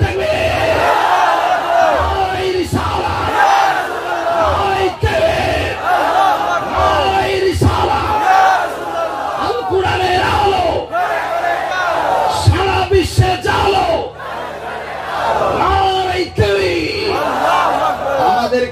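A large crowd at an Islamic religious sermon gathering shouts a chant of Allahu Akbar in loud, sustained, reverberant waves, with a preacher's voice mixed among the roaring voices.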